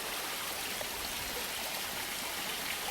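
A small brook flows with a steady, close, broadband babble and trickle, uniform throughout with no talking.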